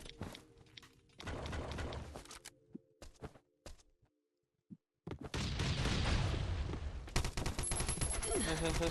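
Gunfire in the survival video game Last Island of Survival: bursts of rapid automatic shots, then sharp isolated reports around a near-silent gap, then dense loud sustained firing, with voices faintly mixed in.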